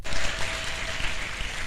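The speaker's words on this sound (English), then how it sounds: "Can you give me a clap?" A crowd at an International Women's Day event breaks into brief, dense applause, a short burst of many hands clapping at once with no voices over it.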